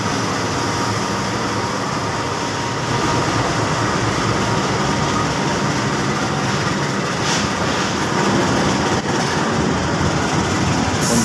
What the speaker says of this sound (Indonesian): keretanya berangkat kembali